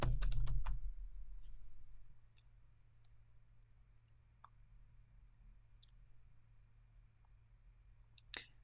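A burst of quick computer keyboard typing clacks loudly at the start, then the keys fall quiet except for a few sparse, faint clicks over a low steady hum.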